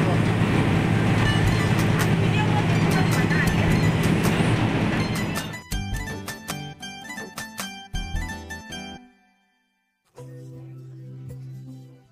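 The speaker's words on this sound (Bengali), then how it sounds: "ট্রেন জার্নিটা একটু তোমাদের সাথে শেয়ার করলাম" Onboard a train on a journey to Guwahati, a dense, loud rolling rumble fills the first half. It then thins into sparse, sharp clatters and knocks, with a brief silence before a low hum returns.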